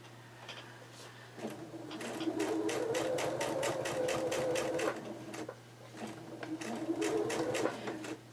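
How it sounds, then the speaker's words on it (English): A sewing machine stitches a diamond quilt seam in fast, even needle bursts, pausing briefly and then running again at a slightly quicker pace, close and clear over a low steady hum. "you can hear that it is sewing a little bit quicker to when we first started"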